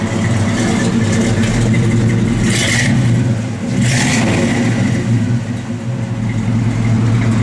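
A 1967 Chevrolet Chevelle Convertible engine runs steadily while the car backs up, a loud close low rumble with two brief revving surges partway through and no talk.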